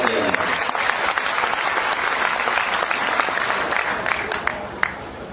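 A crowd at a 2020 Madhya Pradesh by-election rally in Gwalior gives thunderous, continuous applause to welcome Brijendra Pratap Singh, with dense clapping lasting throughout at a steady loud level.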